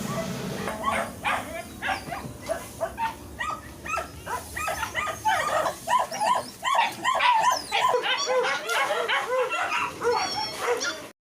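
Many dogs at an impounding facility bark and yelp in a busy, overlapping chorus, with whimpering mixed in, fairly close and loud, growing denser toward the end.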